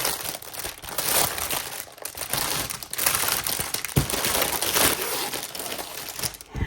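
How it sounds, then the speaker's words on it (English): Loud, close crinkling and rustling of a plastic bag as a cross stitch kit is worked out of it, steady handling noise with sharper crackles throughout. "Then give me a minute to get it out of the crinkle bag."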